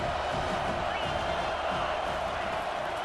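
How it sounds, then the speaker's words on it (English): A football stadium crowd swells behind the defense on third down at a college game, a dense, steady roar of many voices filling the space with no break. "Decibels rising as the crowd gets behind this defense on 3rd down."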